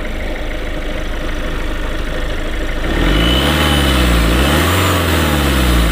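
A Peugeot 1.6 HDi diesel car engine idling loudly up close, then revving as the accelerator is pressed, the pitch rising and falling in a couple of swells before settling into a higher hum.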